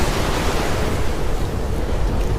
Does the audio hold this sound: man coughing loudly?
no